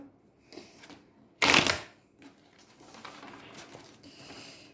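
Fairy oracle cards shuffled by hand, a sharp burst of riffling and flapping card noise near the start, followed by quieter soft rustling and patter of the deck.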